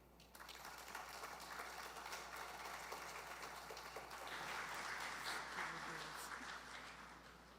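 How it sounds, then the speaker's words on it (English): At an app launch event in Barbados, the audience gives a fairly quiet but steady round of applause that starts after half a second and continues over a constant low hum. "Let's give them a bigger round of applause."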